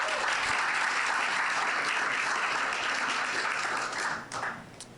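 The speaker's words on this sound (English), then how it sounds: "please join me in giving a warm round of applause for Donna and Aneri." Warm audience applause at an author book event, a full, steady wash of clapping from a crowd that holds for about four seconds and then tapers off with a few last claps.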